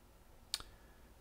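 A single quiet computer mouse click, a sharp double tick heard alone against faint room hiss.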